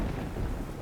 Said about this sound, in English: Let's just turn off the rain now